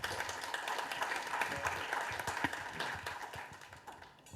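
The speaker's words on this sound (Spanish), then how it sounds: "Recibámoslo con un fuerte aplauso" Audience applause at a talk on oral presentation of evidence under a new civil procedure code, a dense patter of many hands clapping steadily in a hall, moderately loud and tapering at the end, with no talk over it.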